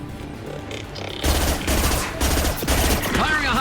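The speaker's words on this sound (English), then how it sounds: "Firing a high impact shot!" Rapid gunfire in the sci-fi shooter Mass Effect 2 during an assault on the Collectors, a dense burst of loud, punchy shots with rumbling impacts filling the clip, following a brief voice and game noise.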